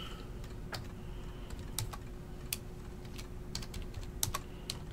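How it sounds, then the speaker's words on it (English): Keystrokes on a computer keyboard typed with one hand, scattered irregular clicks over a steady low room hum, nobody speaking. "typing with one hand is so weird."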